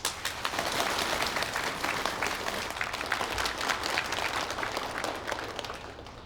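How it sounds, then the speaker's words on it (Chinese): Dense, steady applause from an audience at an official meeting, welcoming a newly appointed leader's inaugural speech, sustained and fairly loud throughout with no voices over it. "我们用热烈的掌声欢迎皮丹同志做就职演"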